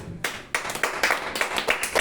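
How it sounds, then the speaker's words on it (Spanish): A church congregation claps in a quick uneven run of sharp hand claps, fairly close and moderately loud, breaking out after a short pause. "Dale un fuerte aplauso."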